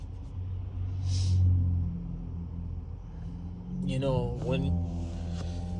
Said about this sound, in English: apologize for all these loud cars over here